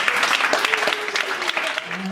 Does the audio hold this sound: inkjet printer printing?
no